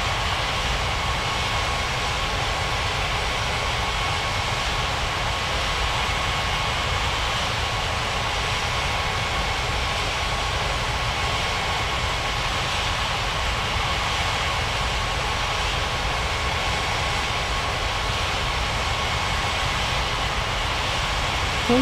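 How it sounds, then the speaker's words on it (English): An airliner in a mobile flight game powers up for takeoff from runway 35 right, a steady, loud broadband engine roar holding constant throughout with no voices. "Air China 7367, cleared for takeoff runway 35 right."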